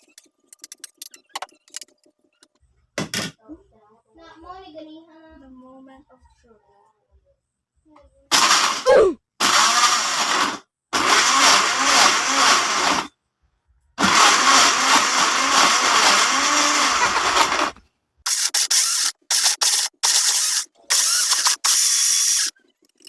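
A blender roars in several loud bursts with short pauses between, grinding and rattling as it crushes large ice cubes for a soursop shake, after quieter clicks and handling sounds.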